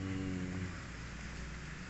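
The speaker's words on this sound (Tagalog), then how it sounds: "umuulan pa gawa ng may bagyong Inday" Steady rain from Typhoon Inday hisses continuously in Batangas, Philippines, a dense even wash of falling water with a low rumble beneath.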